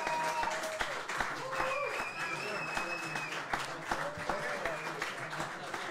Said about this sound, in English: One more round of applause, y'all.